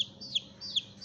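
Caged chickens kept alongside pigeons give three short, high, chirpy clucks in an even rhythm, close by over a faint low background, with no talk.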